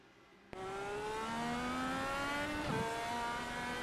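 An IndyCar DW12 race car at Pocono kicks in abruptly after a quiet start and holds a loud, steady engine note under power, the pitch climbing slightly, with a short rough burst partway through.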